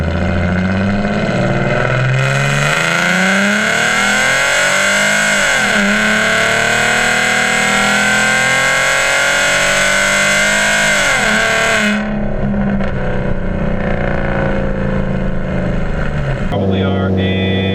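A 2014 Ford Mustang V6 engine revs loudly and continuously, its pitch sweeping up and down in long swells before cutting off near the end, with a voice briefly over it.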